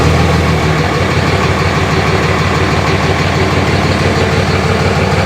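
A Cummins diesel pickup truck engine starts and idles steadily nearby with a deep, even rumble that holds for the whole stretch without changing pitch.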